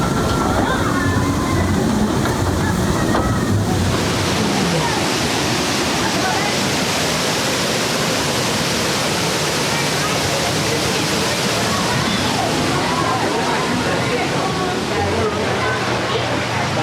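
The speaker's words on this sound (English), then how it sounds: "This is a really great queue line with water features that kind of weave all the way through it" Water features in a theme park ride queue splash and rush continuously, a close, steady wash of flowing water with a brief mechanical hum at the start and a voice talking over it.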